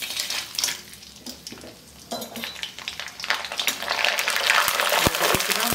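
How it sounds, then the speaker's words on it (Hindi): Rice phulwadiyan dropped into hot oil, giving a building sizzle with stirring scrapes and a few sharp utensil knocks near the end, close and fairly loud. "असीं हुण फुलवड़ियां नूं फ्राई करने आं।"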